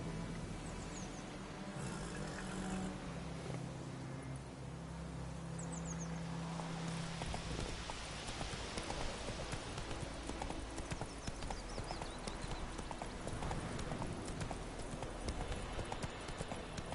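Roach, the horse in the video game The Witcher 3, gallops with a steady, rapid clip-clop of hooves that continues for the whole stretch, at a fairly low level.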